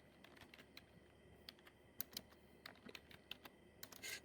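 Typing on a computer keyboard while entering a title into a PowerPoint slide, with quick, irregular key clicks close by and fairly faint.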